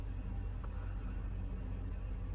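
A taxi pulls up in a cartoon, heard as a steady, low, muffled engine rumble that holds evenly throughout without any sharp change.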